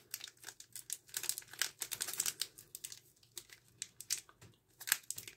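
A wrapped pack of collectible cards being worked open by hand, with close, faint crinkling and tearing of foil wrapper in irregular bursts.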